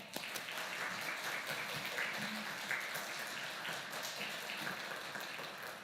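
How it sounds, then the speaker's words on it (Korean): A church congregation at a Sunday youth service claps to welcome a speaker, a soft, steady patter of many hands sustained throughout, fairly faint and distant. "우리 지용근 대표님 나오실 때 우리 큰 박수로 맞이해 주시면 고맙겠습니다"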